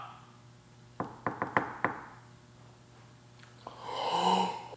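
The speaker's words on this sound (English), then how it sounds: "Can you finish this knock?" Series of five sharp knocks on a wall or door inside a reportedly haunted building, evenly rhythmic and fairly close, followed by a faint thud and a louder rising breathy noise, with a steady low hum beneath.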